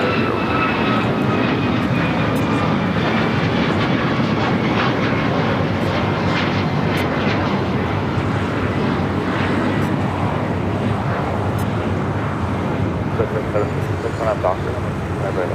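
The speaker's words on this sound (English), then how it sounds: "That is American Airlines Flight 33 coming up from JFK and an A321." An American Airlines Airbus A321 airliner at LAX gives a loud, steady jet roar that fills the whole stretch, with a broad rushing wash and faint tonal whine carrying on without a break.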